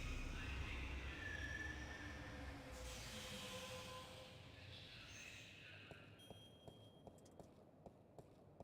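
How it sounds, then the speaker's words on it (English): A train in the adventure game The Longest Journey: a low rumbling drone that fades away, leaving faint regular clicks at the end. "Train!"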